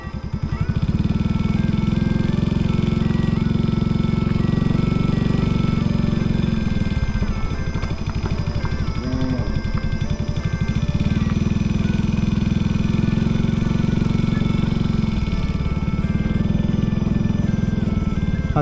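Motorbike ridden along a long village road in rural Laos, engine droning loud and steady throughout with shifts in pitch as it speeds up and slows.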